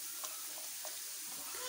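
Chopped papadam fries in a pan for a clam curry, a faint, steady sizzling hiss with a few soft stirring touches throughout.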